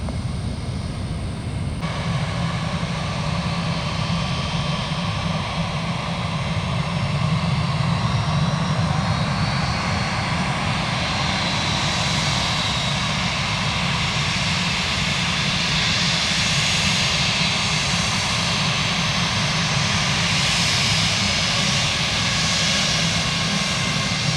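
A Spirit airliner jet takes off from runway 1 left at Tampa, its engines producing a loud, continuous roar that holds steady and close for the whole stretch.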